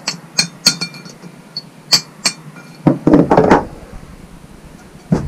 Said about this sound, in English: the way I get it out is I just lightly tap it with a socket extension